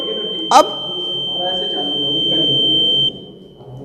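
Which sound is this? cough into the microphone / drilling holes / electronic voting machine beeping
electronic voting machine beeping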